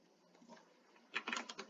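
Quick burst of keystrokes on a computer keyboard, a soft faint patter at first that turns into louder, closer clicks, with no voices.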